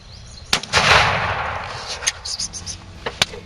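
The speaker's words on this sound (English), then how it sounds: "My dad was shooting right over my shoulder," A shotgun blast fired at close range during a turkey hunt, one sharp loud report with a rolling tail through brush, followed by a few fainter clicks and rustles.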